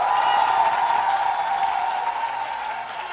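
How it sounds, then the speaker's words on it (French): Applause in a radio studio for the women hosts of a talk show, a smooth, even wash of clapping under a steady tone, fading slightly toward the end. "Est-ce que toutes les go de la FM peuvent s'applaudir?"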